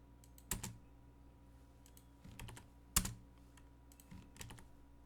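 Keyboard keys are struck in three or four short clustered bursts while drafting surveying measurements in AutoCAD, likely including a Ctrl+V paste, each burst a quick clatter of a few keys separated by pauses, close and clear over a faint steady hum.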